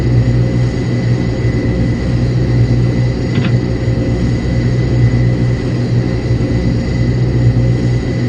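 An Airbus airliner's engines in a flight simulator game give a loud, steady, unbroken rumble with a constant whine on top, continuous throughout with no talk.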